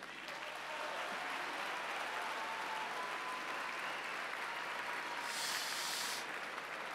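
An audience at a political debate evening applauds in a steady, sustained wash of clapping that holds at an even level from start to finish.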